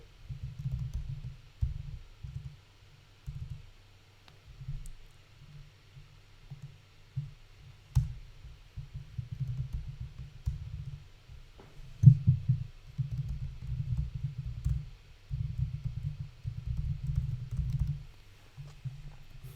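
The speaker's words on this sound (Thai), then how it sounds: "แป๊บนะครับพิมพ์ไว้เลย" Typing on a computer keyboard, soft irregular bursts of muffled key taps in quick runs separated by short pauses, fairly faint and close, with no speech.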